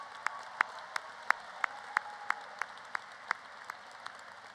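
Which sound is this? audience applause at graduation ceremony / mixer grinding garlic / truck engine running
audience applause at graduation ceremony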